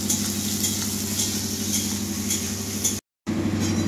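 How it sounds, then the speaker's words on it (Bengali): Potatoes sizzle steadily in a hot pan for a poppy-seed dish with onion stalks. A continuous close frying hiss sits over a low hum, with a brief cut to silence near the end. "প্রথমে আমি আলুটাকে ভাজে দেব।"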